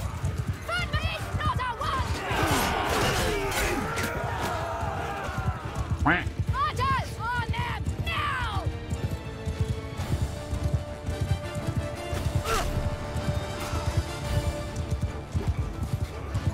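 Cavalry horses gallop into battle in Mount & Blade 2 Bannerlord, a steady drumming of many hooves with whinnies and neighs rising over the clatter, while someone talks over the game sound.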